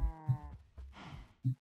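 A cow lowing in the Minecraft video game, two or three short low bleat-like moos spaced across a brief moment, with quiet rustling between and no talk.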